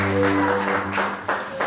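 A congregation at a Christmas mass breaks into a short burst of clapping, a dense wash of applause over a sustained low musical tone, swelling briefly near the end.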